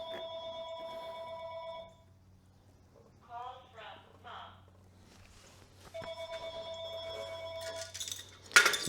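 A telephone rings unanswered, two bursts of bright electronic trilling separated by a quiet gap in which a voice speaks briefly, the second ring ending in a louder clatter.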